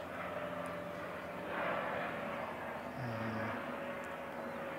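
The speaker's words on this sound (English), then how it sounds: "let's see if wind shear is an issue for a jet aircraft." A distant jet airliner approaching to land drones steadily and swells slightly midway, with a faint low whine and steady background noise.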